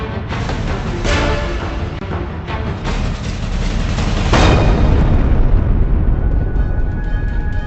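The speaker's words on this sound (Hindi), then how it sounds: "एक धमाका" A loud, rumbling blast with broadband crackle and sharp bursts, sustained and dense throughout, no voices.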